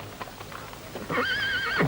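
Horses on sand for a battle scene in the 1976 film The Message: soft hoof clip-clops in the first second, then a loud, long rising-and-falling whinny rings out close by and trails off at the end.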